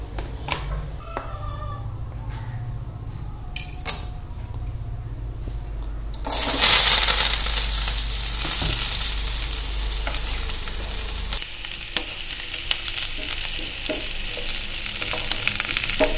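Shallots, three dried red chillies and curry leaves drop into a hot mustard-seed tempering, setting off a sudden loud burst of sizzling that settles into a steady, crackling fry.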